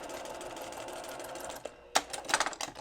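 A sewing machine runs steadily close by, stitching over a seam on a Double Monkey Wrench quilt block, then stops. A few sharp clicks and handling sounds follow.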